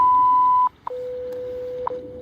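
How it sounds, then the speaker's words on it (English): Shortwave radio time-signal broadcast: a steady high beep tone cuts off, then a brief tick leads into a long, lower continuous tone, with another short pip near the end over faint static. "At the tone, 18 hours, 56 minutes, Coordinated Universal Time."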